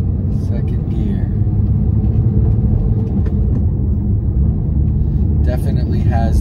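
Steady, loud engine rumble fills the cabin of a Porsche 911 Carrera S (991) fitted with a Numeric short shifter as it pulls away and shifts up through the gears, with a voice talking over it.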